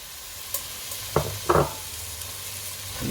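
Spring onions, bacon and mushrooms being stirred in a frying pan, with a soft sizzle throughout and a few scraping thuds from the utensil in the middle.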